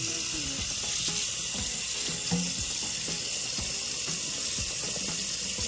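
Cold tap water runs steadily over drained lasagna noodles in a kitchen sink, a close, continuous splashing wash with faint clinks and knocks throughout and no talking.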